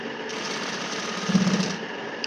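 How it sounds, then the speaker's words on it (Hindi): A sewing machine runs a steady, continuous close whir while stitching a double seam on a trouser, with a slight rise in intensity near the middle. "यहाँ पर डबल सिलाई लगा रही हूँ।"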